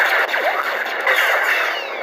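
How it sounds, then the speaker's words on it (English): Lightsaber blaster-block effect from a Darth Maul sound font, a short, loud, steady electronic buzz lasting about two seconds with brief crackling deflection sweeps across it. "Alright, you have your blaster block."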